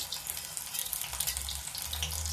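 Onion pakoras sizzling in hot oil in a besan and rice batter, a steady bright crackle with a soft low rumble, close and continuous, no talking.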